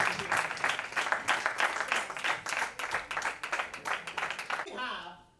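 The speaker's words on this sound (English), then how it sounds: "Can we have a huge round of applause and welcome our third judge for this event?" A college annual festival audience claps energetically with cheers and shouting, the dense applause thinning out abruptly in the final half second.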